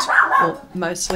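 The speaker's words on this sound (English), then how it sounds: "pardon the dogs today, as usual. They're very energetic." Energetic dogs bark and yip close by during a pumpkin-painting livestream, with short, sharp barks that overlap a person talking.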